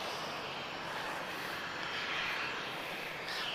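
An Azores Airlines airliner's jet engines at Lisbon Airport give a steady, broad roar that stays even and fairly strong throughout, with no talking.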